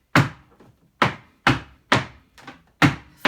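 Zapateado jarocho footwork from a son jarocho dance, sharp wooden stamps hitting the floor in a repeating syncopated rhythm, loud and close, with softer heel taps between the main strikes and no voices.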